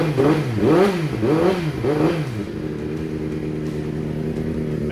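A Triumph TT600 motorcycle engine, freshly swapped in after the old one snapped a valve, revs in several quick rising-and-falling blips up close and then settles into a steady, loud idle.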